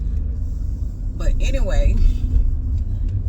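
Steady low engine rumble and road noise from a convertible driving with its top down through Dallas, Texas traffic on a warm day, with someone talking briefly over the drone.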